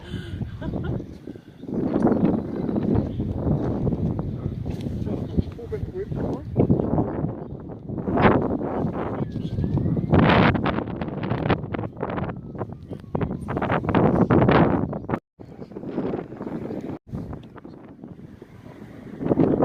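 Steady cold wind gusts buffet the microphone on Mount Victoria in Wellington, New Zealand, with people talking over the blustery rush throughout.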